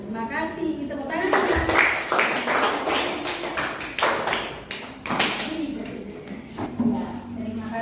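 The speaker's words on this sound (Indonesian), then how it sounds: "Tepuk tangan." Students in a classroom clapping their hands in a rhythmic, patterned sequence of sharp claps with pauses, while children's voices and speech run alongside.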